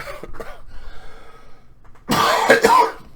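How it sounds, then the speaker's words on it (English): A man's harsh cough bursts out as a short cluster of loud, rough hacks near the end, preceded by a quieter throat-clearing rasp. "I can't get rid of this cough."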